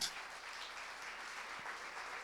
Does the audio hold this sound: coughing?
no